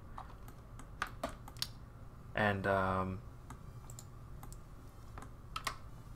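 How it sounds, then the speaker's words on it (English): Keys clicking on a computer keyboard while working in Blender, a few sharp taps scattered through the stretch with a short spoken word in between, quiet and close. "Now we're gonna do that again. Control J on the keyboard."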